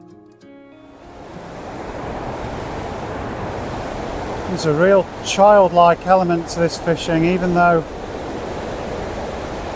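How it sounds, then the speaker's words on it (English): Water roaring over a weir on a chalk stream, a steady broadband rush that goes on throughout, with someone talking over it partway through. "the roar of the weir"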